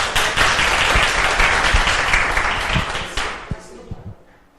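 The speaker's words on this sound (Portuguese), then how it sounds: "Então, já pode vir à frente e receber a salva de palmas para o grupo 1." At a morning session of a teacher training course for hospital classrooms, a room of participants gives a loud, full round of applause that holds steady, then thins out into a few scattered claps and fades.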